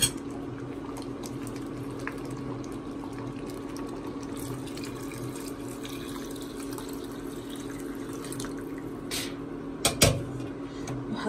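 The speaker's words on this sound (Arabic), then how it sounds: "وخليهم يفورون." A pot of bean and meat stew with tomato paste, water, salt and oil bubbles on the stove in a steady, low simmering hiss, with a few brief clinks near the end.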